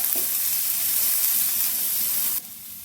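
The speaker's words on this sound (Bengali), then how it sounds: "পেঁয়াজটা বেশ একটু নাড়াচাড়া করে হালকা করে একটু ভাজা ভাজা করে নিচ্ছি" Constant bright sizzle of onions frying lightly in a pan with about a spoon of oil, fairly loud and steady, then abruptly dropping quieter near the end.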